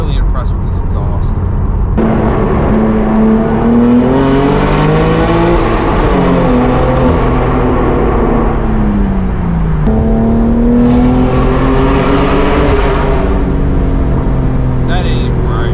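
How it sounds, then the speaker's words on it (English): Close, loud revving from a straight-piped BMW M4 G82 fitted with a downpipe and Valve Master titanium exhaust, the engine note climbing and falling through several rising sweeps, raspy and aggressive. "Valve Master titanium system sounds incredible."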